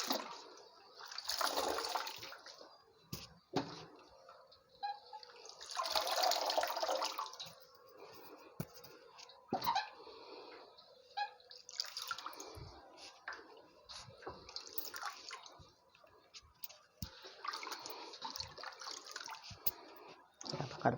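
Mushrooms being rinsed by hand in a basin of water for fermented mushroom sausage, with repeated sloshing and splashing bursts at close range, no talking.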